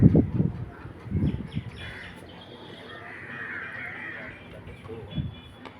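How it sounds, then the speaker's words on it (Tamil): A crow caws a few times, loud bursts at the start and again near the end, with quieter outdoor ambience and faint bird chirps between. "அதுதான் காக்கா வந்து சத்தம் போட்டே இருக்குது."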